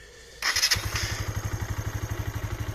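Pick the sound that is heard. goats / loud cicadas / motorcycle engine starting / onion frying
motorcycle engine starting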